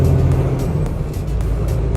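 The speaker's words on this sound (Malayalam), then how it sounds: "പയ്യ വണ്ടികളെല്ലാം അനങ്ങി തുടങ്ങി കേട്ടോ" Low rumble of car engines idling and pulling away in traffic, a steady deep drone with occasional sharper noises on top.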